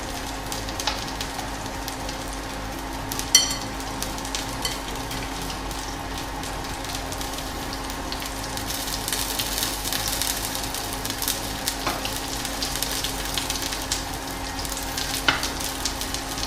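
Spoonfuls of corn galette batter flattened in a hot pan give a long, even, gentle sizzle, steady and close, with a few faint clicks of the pan or utensil and no voices.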